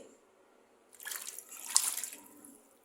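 Malabar spinach greens are rinsed in water: near silence, then about a second and a half of splashing and dripping water up close, fading out.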